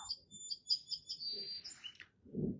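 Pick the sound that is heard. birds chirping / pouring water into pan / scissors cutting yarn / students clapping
birds chirping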